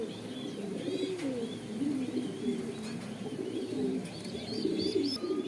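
Racer and satin pigeons coo in a low, continuous rolling murmur at an exhibition, with several birds overlapping steadily and a few faint higher chirps on top, no talking.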